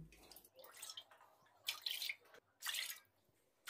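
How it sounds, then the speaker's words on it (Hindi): Four glasses of water poured into a large cooking pot on a gas stove, heard as splashy bursts of pouring separated by brief pauses, fairly close and quiet, with no voices. "4 गिलास पानी डालते हैं।"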